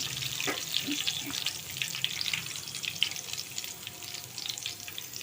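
Curry leaves dropped into hot oil in a pan, for a gooseberry pickle, give a bright crackling sizzle that stays steady and fairly faint close by, with a few soft knocks early on and no speech.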